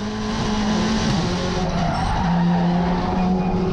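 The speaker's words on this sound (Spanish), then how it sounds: "Pero escuchen a bordo, fíjense todo lo que patina." Onboard a race car at the Buenos Aires circuit, a loud, steady engine roar with long, wavering tire squeals as the car slides and skids, heard close from inside the cockpit with no speech.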